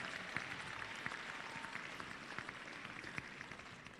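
At a university games closing ceremony, a large audience gives a faint, distant round of applause, a dense wash of clapping that holds steady for the whole span.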